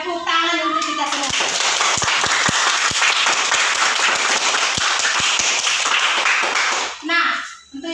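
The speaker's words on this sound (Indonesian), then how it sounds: "Tepuk tangan untuk kita semua." A classroom of children claps together after a lesson, a brisk burst of hand clapping with a few sharp individual claps standing out, framed by a teacher's voice speaking at the start and end.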